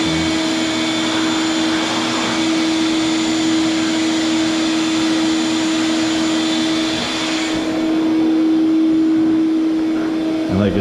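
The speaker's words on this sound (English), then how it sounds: "Don't forget to vacuum each one because as you can see, dust." A vacuum cleaner runs over vinyl floor tiles during a kitchen remodel, giving a loud, steady, close drone with a constant whine that holds for the whole stretch without talk.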